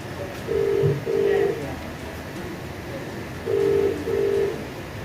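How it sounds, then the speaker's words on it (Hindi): Four steady electronic tones in two pairs, like a phone line ringing back, over a constant hum and faint background noise. "ये मैं पुलिस कमिश्नर को फोन मिला रहा हूँ।"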